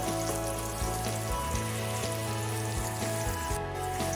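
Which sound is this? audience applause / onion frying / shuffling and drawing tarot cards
onion frying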